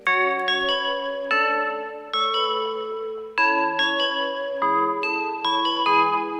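A clean keyboard melody of sustained, bell-like tones plays in clear steps, dry and bright with no added processing, alone and close.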